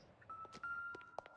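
Telephone in use in the detective game LA Noire: a faint sustained tone runs under a handful of short clicks and soft dial-like beeps, all quiet and close, without talk.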